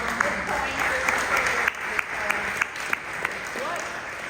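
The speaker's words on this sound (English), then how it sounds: "let's just give them a quick round of applause." A short round of audience applause at a League of Women Voters community forum on affordable housing, steady clapping with a few sharper individual claps standing out, and some voice over it.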